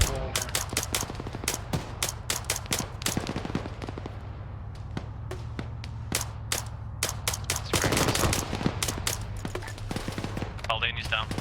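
Rapid airsoft gunfire in a milsim game, dense bursts of sharp cracks and pops in quick irregular rhythm, some close and loud, with a voice talking briefly.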